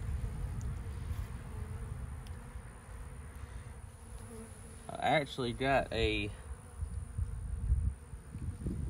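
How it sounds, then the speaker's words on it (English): Honey bees hum in a steady low drone from an opened beehive full of honey and comb, a close outdoor buzz that runs throughout while someone talks partway through. "pretty good ball of bees on the inside right here"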